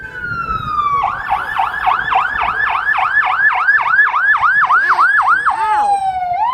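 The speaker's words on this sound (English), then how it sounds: "This fire truck is stuck." A fire truck's siren wails loudly and close by in heavy city traffic on a winter night in Toronto, rising and falling in quick repeated yelps before settling into a long descending tone.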